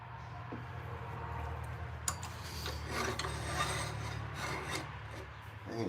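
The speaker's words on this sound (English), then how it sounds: "looks like we've got the lathe running a little too quick here for what we're working on." A lathe works a tobacco pipe with a steady low motor hum and continuous rasping, scraping contact, a few sharper scratches partway through, and no talking.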